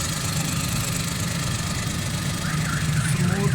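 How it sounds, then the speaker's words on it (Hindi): A Nissan Moco car engine idles steadily right after starting, newly fitted with spark plugs following a misfire and fuel fault; a constant low rumble runs close and even, with no talk over it. "माशाल्लाह गाड़ी स्टार्ट हो गई है"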